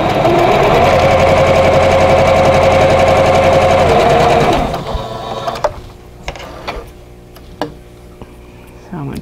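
A sewing machine stitches a vintage-style quilt block along a taped guide line, a loud, steady mechanical whir for several seconds that stops abruptly, followed by faint clicks and handling sounds.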